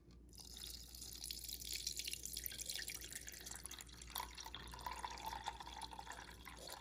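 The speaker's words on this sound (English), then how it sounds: "we're gonna start pouring water into the bowl" Water poured into a bowl for a quarter magic trick in a physical science experiment, a faint continuous trickle and splash close by with a few dripping accents, no speech.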